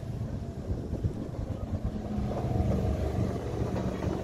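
A 4-cylinder off-road vehicle engine revs in the desert during an off-road driving session, a loud, steady roar with wind buffeting close to the microphone.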